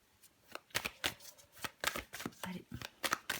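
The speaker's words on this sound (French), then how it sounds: "Je vais encore tirer une carte pour vous" Tarot cards being shuffled before a card is drawn: soft, rapid papery riffles and slaps in uneven bursts, close and fairly quiet, with someone speaking in between.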